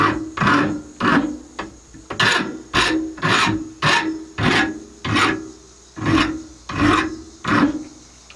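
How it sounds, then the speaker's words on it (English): A metal file rasps burrs off the end of a rod held in a vise, about a dozen steady back-and-forth strokes in an even rhythm, close and clear with no talking. "Just take my file here and start by getting the burrs off the end."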